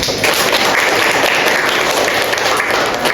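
A classroom audience claps during a teaching session, a dense steady patter of applause lasting a few seconds at close range.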